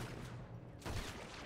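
Gunfire in the Red Dead Redemption 2 video game: a dense, noisy burst of shots lands near the middle of the clip over a continuous loud backdrop of game sound.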